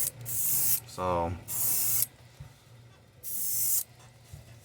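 Airbrush spraying green paint over a handmade wooden jointed wake bait, sounding as three long steady bursts of airy hiss separated by short pauses, with one brief spoken word between the first two bursts.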